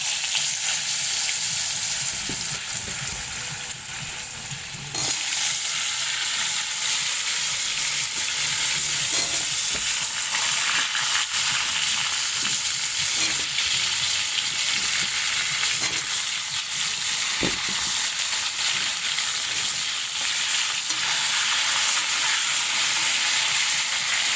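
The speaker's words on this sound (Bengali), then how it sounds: "আলুগুলো একটু ভালো করে লাল লাল করে ভাজবো" Cut potatoes fry and get stirred in hot oil with turmeric, a steady loud sizzle running throughout with occasional scrape-like clicks from stirring, and no voices.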